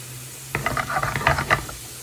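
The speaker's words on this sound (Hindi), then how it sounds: "तो यहाँ पर हम तड़का रेडी कर रहे हैं।" Hot oil for a tadka crackles and spits in a short burst as something is added to the pan, then settles into a faint sizzle.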